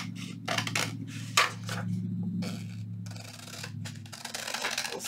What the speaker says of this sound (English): I'm going to trim my papers away from my envelope.